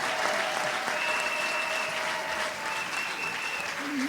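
Church congregation applauding at a pastor ordination service, a continuous dense clapping that holds evenly throughout with faint tones underneath.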